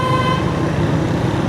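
Dense city traffic on the GT Road out of Lahore, with car horns tooting and vehicle engines rumbling in a loud, continuous street din close by.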